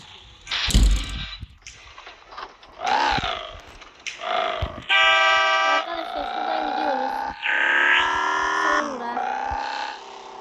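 Several car horns honk in bursts in a driving video game, some long and blaring, some short toots, amid engine and mechanical noise, with someone talking in between.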